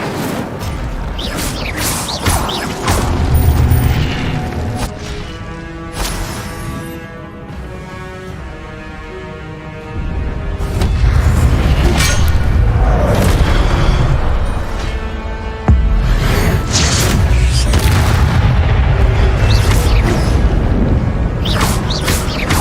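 Incendio fire spell cast repeatedly in Hogwarts Legacy combat, loud whooshing bursts and booms recurring every few seconds amid clanking mechanical game effects and a musical drone.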